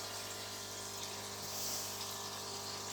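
A pond filter pump runs beneath a swimming pool cover, giving a faint, steady watery hum with a soft rushing hiss that holds evenly throughout, with no voices.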